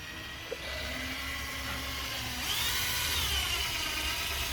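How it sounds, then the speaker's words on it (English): A 4mm drill bit bores a pilot hole into a Hybrid Racing shifter plate for a K-swapped Honda Civic EJ9, a steady close whine that rises in pitch partway through and runs alone without talk. "we're going to start off with just a tiny little drill"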